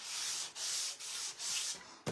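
Rhythmic hand sanding on wood: four or five back-and-forth rasping strokes, close and fairly quiet, with short pauses between them.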